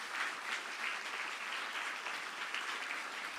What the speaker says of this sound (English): please join me to welcome the Right Honourable Liz Truss, Member of the UK Parliament and former UK Prime Minister, with a warm round of applause.